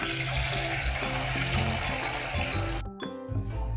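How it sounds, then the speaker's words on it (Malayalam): Cold water running from a tap into hot water in a kitchen sink to soak stove grills makes a loud, steady rushing splash that cuts off sharply near the end, followed by faint clatter. "അതിൻ്റെ കൂടെ നമ്മളൊന്ന് തണുത്ത വെള്ളം കൂടി ഒന്ന് മിക്സ് ചെയ്യാം"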